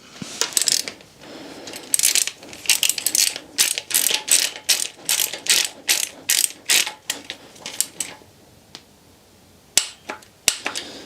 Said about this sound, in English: They're to be torqued down to 38 Newton meters.